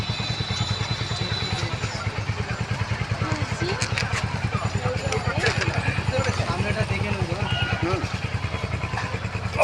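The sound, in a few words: motorcycle ride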